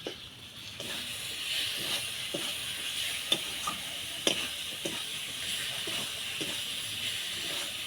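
Spices fry in a pressure cooker for a Bengali chicken dish, with a steady hiss and sizzle under a series of light, regular scraping strokes from a stirring spoon.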